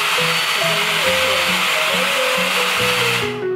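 A blower brush hair dryer runs continuously at close range with a loud, steady, vacuum-like whir and a high whine. It cuts off at the very end.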